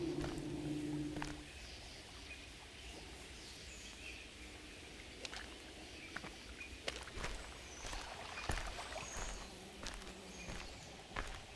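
A boat crosses marsh water in the Amerzone video game, with a soft, steady watery wash, quiet scattered clicks and splashes, and a faint low hum fading early on.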